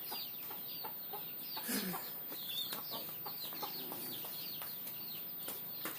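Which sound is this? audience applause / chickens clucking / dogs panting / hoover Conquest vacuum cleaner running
chickens clucking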